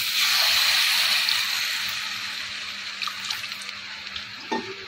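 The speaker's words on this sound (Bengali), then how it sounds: "এখানে দিয়ে দেবো পরিমাণ মতো জল" Water pours into a pan of cooked-down tomato masala for paneer bhurji, a steady splashing stream loudest at first, then fading into soft bubbling and faint clinks.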